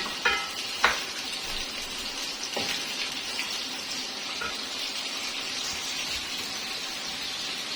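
Chicken pieces frying in oil in a karahi pan, a steady close sizzle throughout with a couple of sharp spatter bursts near the start and occasional stirring clinks.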